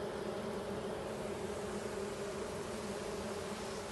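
Dense, steady buzzing of many honeybees on a beehive frame in an apiary, a continuous close drone with no gaps and no voices.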